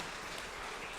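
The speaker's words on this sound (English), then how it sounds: "Round of applause for that question." Round of applause from a comedy audience at an evening stand-up show, a dense steady wash of clapping filling the whole moment with no voices.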